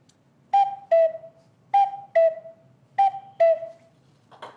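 A cuckoo call whistle sounds three clear two-note pairs, each falling from a higher to a lower tone, close and alone with short pauses between pairs.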